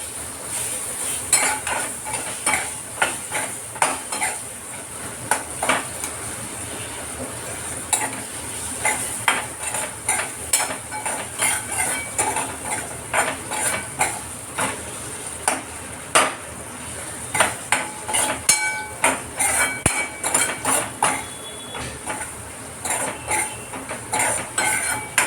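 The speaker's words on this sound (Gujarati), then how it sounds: "હવે હું આને કેળું પધરાવી દઈશ અને એને ઘીમાં શેકીશ" Banana roasting in ghee in a pan for a rawa sheera, with constant metallic scraping and clinking of a spoon against the pan over a soft sizzle throughout.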